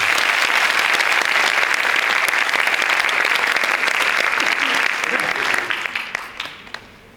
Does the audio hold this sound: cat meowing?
no